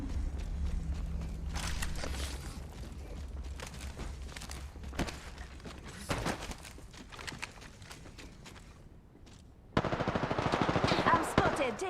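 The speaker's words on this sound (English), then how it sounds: "I'm spotted. Taking fire." Automatic and rapid gunfire from the video game Apex Legends rattles in dense bursts throughout a match, with a louder, brighter volley near the end and some game voice lines mixed in.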